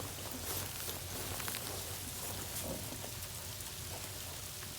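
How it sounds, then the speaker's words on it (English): Heavy sleet coming down hard and fast during a winter storm, a steady dense hiss of icy pellets striking surfaces all around, continuous and close with no voices. "It is just sleet, sleet, sleet everywhere."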